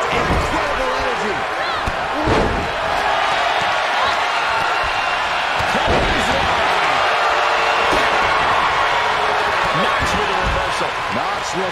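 Arena crowd in the WWE 2K22 wrestling game roars and cheers steadily throughout, loud and sustained, with sharp slam impacts from the ring cutting through and commentary voices over the top.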